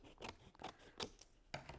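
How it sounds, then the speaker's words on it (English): Scissors cut through watercolor paper card in a series of crisp, close snips, each short burst separated by brief pauses, with no voices. "Good thing I have scissors."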